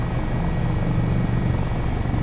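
An HH-65 Dolphin Coast Guard helicopter flies in Microsoft Flight Simulator 2024 near Valdez, Alaska, a steady close rotor and turbine drone with a low rhythmic beat throughout.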